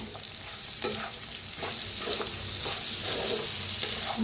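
Dal dosa batter with a little sugar and chopped coriander being stirred by hand in a bowl, a soft steady wet mixing with faint scraping strokes, alone and close.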